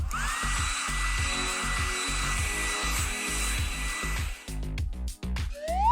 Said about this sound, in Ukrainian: Спершу фен.